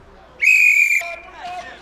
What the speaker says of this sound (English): The referee will just blow the whistle on that one